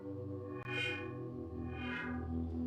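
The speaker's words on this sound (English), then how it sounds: "So look, this is my distortion circuit." A synth sound driven through a distortion circuit with a low pass filter on the output, shown in an Ableton Live 12 setup: a steady, dense buzzing tone with bright swells, continuous and loud with no talk.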